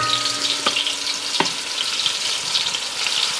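Burgers frying in a 12-inch pot on an indoor electric stove set to about 8 of 10, giving a steady close hiss and crackle with a few sharp pops, no voices.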